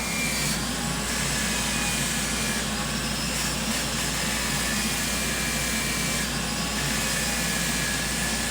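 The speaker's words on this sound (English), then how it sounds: "I'm going to have my dust extractor on" A dust extractor runs during woodturning sanding with a loud, steady, whooshing roar that stays even the whole time, with no voices over it.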